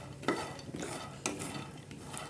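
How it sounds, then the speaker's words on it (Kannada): A cup of peanuts dry-roasting in a pan for sugar-free peanut laddu gives faint scraping and rattling stirs, a few sharper clicks of nuts against the pan over a low steady background. "ಇದು ಚೆನ್ನಾಗಿ ಸ್ಲಿಮ್ಮಲ್ಲಿ ಇಟ್ಕೊಂಡು ಫ್ರೈ ಮಾಡಬೇಕು"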